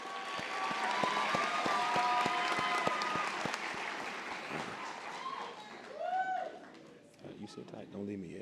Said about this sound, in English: Round of applause for them again.